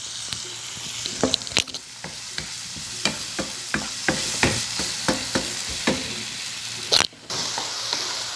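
Onion fries in a pan while Maggi noodles are being made: a steady close sizzle runs throughout, broken by repeated scraping and tapping stirring strokes.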